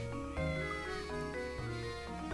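A cat meows once or twice in a game scene, the call sitting over steady background music with sustained tones throughout, moderately loud and close.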